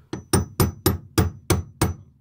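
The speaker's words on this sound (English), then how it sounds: "they use a screwdriver or a little punch tool and make a hit on this" A screwdriver or small punch tool struck against the tab of an in-tank fuel pump locking ring on a Skoda Octavia MK3 1.6 TDI: six sharp, evenly spaced metallic hits, close and loud, with no voices.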